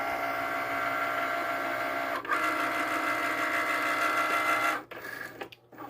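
A Cricut cutting machine runs steadily as it scans registration marks for printable iron-on, giving a continuous whirring motor drone with brief pauses and shifts in pitch near the end.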